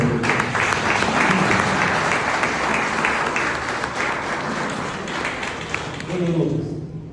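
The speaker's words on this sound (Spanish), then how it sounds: "Fuertes aplausos para él." An audience applauds a writer at a book presentation: sustained dense clapping from a crowd indoors, loud and steady, tapering near the end.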